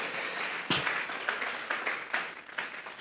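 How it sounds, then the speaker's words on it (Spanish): A church congregation breaks into applause offered to God, a burst of clapping that starts sharply and then carries on as a ragged, uneven patter of many hands in a room. "Vamos a regalarle ofrenda de palmas al Dios de la gloria"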